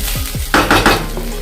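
Navratan pulao is stirred in a cooking pot, giving three quick, close scraping strokes of a utensil against the pot over a faint sizzle, with no speech.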